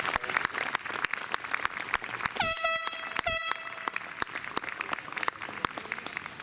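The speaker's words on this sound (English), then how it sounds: "So, one more round of applause for this band." Audience applause for a band at an outdoor summer concert in Central Park, Mt Pleasant, Iowa: steady crowd clapping throughout, interrupted by two loud blasts of an air horn near the middle, with a few faint voices.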